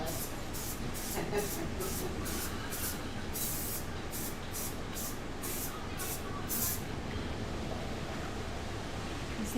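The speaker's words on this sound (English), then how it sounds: "Yeah, it's raining for real here in Dallas." Steady rain falls in Dallas, a constant broad hiss. Short bursts of aerosol spray paint cut through it in the first part, then the rain carries on alone.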